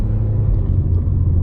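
Steady low rumble of a 2014 Nissan Sentra S with a naturally aspirated 1.8 liter engine, no turbo, running continuously at a constant, moderate level with no voices.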